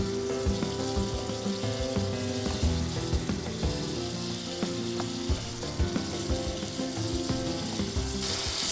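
Tomatoes and small shallots sauté in hot oil in a pan, a dense, loud, continuous sizzle broken by frequent spatters and utensil clatters, with no voices.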